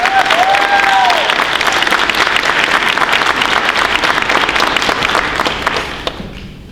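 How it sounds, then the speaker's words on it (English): Loud, sustained audience applause at a community college award reception, dense clapping filling the room for about six seconds before tapering off, with a brief whistle near the start. "So we really want to give a big round of applause for Ms. Ava Green."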